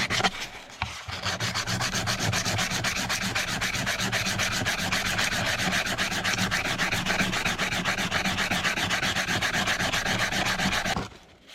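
A wooden block plane is sanded by hand at middle grit. Quick, regular back-and-forth strokes make a loud, close scratchy rasp for about ten seconds, then stop abruptly.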